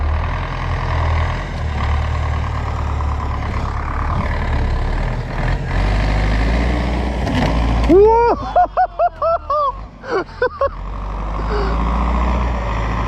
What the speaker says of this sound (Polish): Mocny traktor, dwie liny.